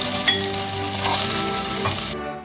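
Food sizzling and frying steadily in a pan until golden, for a white bean cassoulet, with a constant crackling hiss and a few light stirring scrapes, close and alone before cutting off abruptly.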